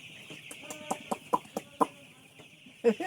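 Broiler chickens on a poultry farm give a series of short, fairly close clucks and calls in an irregular rhythm, with a louder call near the end, over a steady hum of farm ventilation and no talking.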